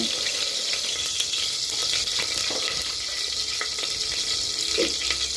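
Whole spices (fennel seeds, two cloves and cinnamon bark) frying in hot oil for a vegetable kurma, giving a steady close sizzle throughout with a few faint clinks, no talking.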